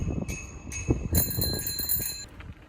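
A bicycle bell rings in several quick, bright dings, close by, over a low rumbling background of movement while bikepacking in the Derbyshire Dales, Peak District.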